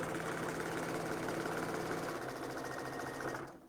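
Sewing machine running steadily as it stitches down quilt binding, a continuous close mechanical whir for several seconds that cuts off at the end.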